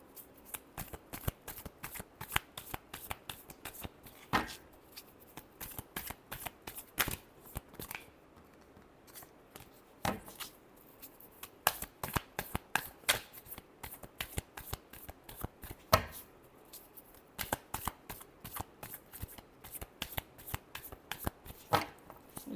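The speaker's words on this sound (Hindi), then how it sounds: "Last shuffle." Tarot cards are shuffled by hand close up, giving a long, quiet run of crisp, rapid riffling bursts with short pauses between them and no talking.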